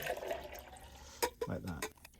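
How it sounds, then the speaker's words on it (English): Water being poured in a process separating bitumen from solids, giving short splashing and trickling bursts, fairly quiet and close. "I'm going to just pour it"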